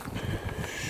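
Steady wind buffets a microphone outdoors on stony open ground, a continuous rumbling roar with fluctuating gusts and no voices.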